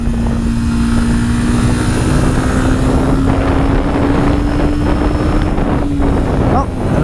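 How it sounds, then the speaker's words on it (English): Honda CBR300R with a single-cylinder 300cc engine, buzzing steadily while being ridden, its tone climbing slightly under constant wind rush throughout. "It is only a 300s, but it's a buzzy engine."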